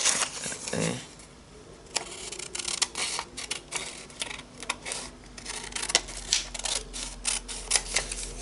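Scissors snip through digital-printed paper for mixed media art tags, a series of short crisp cuts with irregular pauses, close up and fairly quiet, over a faint steady background hum.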